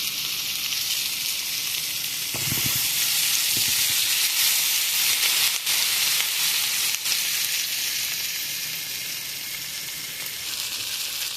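Onions and green chillies fry steadily in hot oil in a pan, a continuous bright sizzle with occasional soft stirring knocks, close and fairly loud, no talking.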